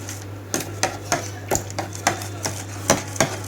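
A spoon knocks and scrapes against a bowl while chicken marinade with yogurt and spices is mixed. The sound is a series of sharp, close clinks at an uneven rhythm, with no talk over it.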